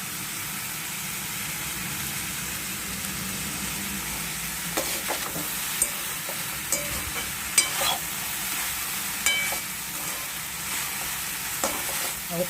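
Curry leaves and green beans stir-fry in oil for a beans poriyal, a constant close sizzling hiss broken by sharper clacks of stirring, with no voices.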